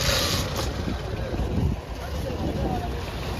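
Low rumble of a small boat, able to carry a few motorbikes, moving over water near Gokarna, with steady wind buffeting the microphone throughout.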